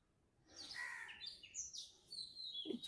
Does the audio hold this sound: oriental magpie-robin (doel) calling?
yes